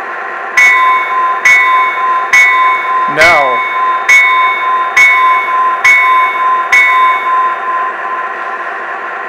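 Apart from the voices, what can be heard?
train bell from a control system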